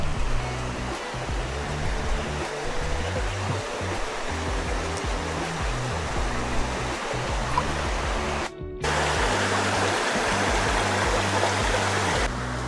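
River water flowing near a hidden waterfall in Spain, a loud continuous rushing wash heard close up, steady throughout with a momentary dropout.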